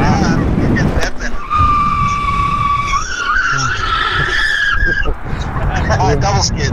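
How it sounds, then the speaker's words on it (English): An e-bike's tires skid twice, giving two loud squeals one after another, with voices talking over the ride. "Oh, double skid."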